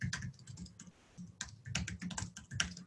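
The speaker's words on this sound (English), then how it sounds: "you can just type in" Computer keyboard typing during a public safety software webinar, rapid close key clicks in irregular bursts with a brief pause in the middle, no talking.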